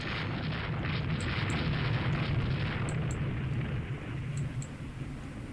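A deep, rumbling explosion from the naval warfare game Rule the Waves 2 roars steadily for several seconds, a dense low roar with faint clicks on top, easing slightly toward the end.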